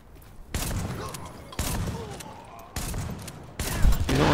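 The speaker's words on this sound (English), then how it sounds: "Bust out the shotgun." Shotgun firing in The Division video game, four loud close blasts spaced about a second apart, each with a short ringing decay and faint mechanical clatter between shots.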